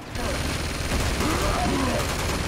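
Rapid gunfire from a shooter video game, a dense continuous burst of automatic fire with game noise mixed in, loud and steady throughout.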